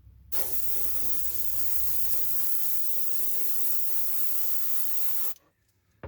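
Airbrush paint spraying onto a panel of a 1/48 scale Kinetic F-104J Starfighter model, a steady close hiss running unbroken for about five seconds before cutting off abruptly.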